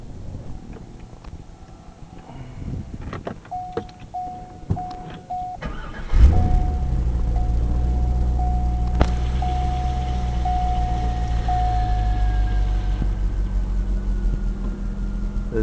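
A Chevrolet C5 Corvette with a Z06 titanium midsection, cats and the stock C5 muffler turns over and settles into a steady, deep idle near 650–700 RPM, following a few clicks and a whining tone.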